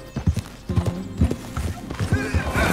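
In Red Dead Redemption 2, a horse clip-clops in a rhythmic hoofbeat pattern up close, with snorts and a faint whinny, while light speech sounds mix in.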